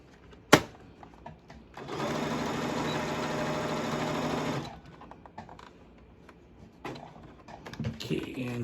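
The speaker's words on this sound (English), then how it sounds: "the second set of stitching is the double stitch" A sewing machine double-stitches a crash bag in a quick, even burst of close, rapid clatter lasting a few seconds, set apart by quiet handling noises and a sharp knock before it.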